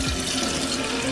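Tap water running steadily into a cooking pot for Korean spicy seafood noodles, a close, loud continuous gush with no talk.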